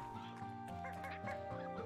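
Chickens clucking in the Slime Rancher 2 video game, a busy run of close, repeated bird calls with honking, nasal tones, fairly quiet overall and with no talking.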